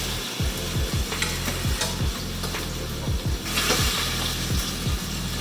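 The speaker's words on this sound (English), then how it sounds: "Just add a little fat to the pan." Pork fat sizzling as it is added to a hot pan while making New Mexico pork red chile tamales, a steady loud crackle with repeated scraping, stirring strokes on top, no talk.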